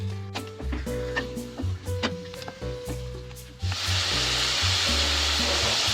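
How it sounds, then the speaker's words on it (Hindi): Chicken dropped into hot oil in a pan for white karahi, with clattering and knocks from handling, then a loud, steady frying sizzle taking over and continuing to the end. "पैन में हम ऑयल डाल देंगे, ऑयल को गर्म होने देना है, चिकन डाल देंगे"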